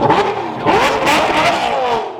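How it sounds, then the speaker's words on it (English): A Lamborghini Aventador Superleggera, one of two loud Lamborghinis, revs hard up close, its engine note sweeping up through a couple of sharp rising blips before falling back. "These 2 Lamborghinis are so stupid loud."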